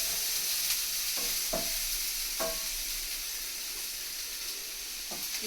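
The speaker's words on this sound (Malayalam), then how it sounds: "ഇതൊന്ന് മുരിയട്ടെ." Onion, green chili and curry leaves frying for a moringa leaf and egg scramble, a steady close sizzle with a few soft stirring clinks scattered through, no talk.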